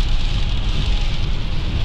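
Rain drums steadily on a car moving slowly on summer tyres in cold weather, a dense hiss over low road rumble and engine noise, with no one speaking.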